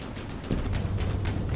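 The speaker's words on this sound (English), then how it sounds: "It must have just been an explosion" An explosion in the naval combat game From the Depths lands as a short burst of booming, crackling blasts amid ongoing gunfire-like noise, with no voice over it.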